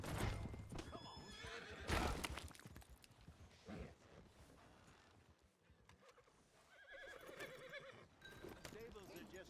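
Horses in Red Dead Redemption 2 whinny and neigh loudly while hooves clip-clop steadily beneath, with a voice speaking over the animals at times.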